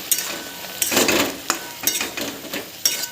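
Fried soybean chunks are stirred into frying masala in a pan, giving loud repeated spatula scrapes and clanks over a steady sizzle.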